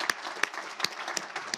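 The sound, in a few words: audience applause for panelists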